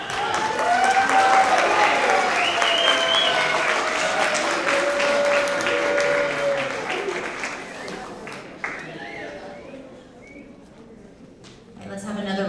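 Applause from students and families at a middle school award assembly, a full steady round of clapping with faint whistles that gradually thins and tapers off, leaving scattered claps and room noise.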